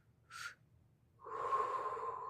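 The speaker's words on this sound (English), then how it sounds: "both inhaling and exhaling out the mouth through an O-shaped mouth" Breath drawn in and pushed out through a rounded O-shaped mouth: a short, quiet airy intake followed by a longer, steady blowing exhale, close and soft with no talking.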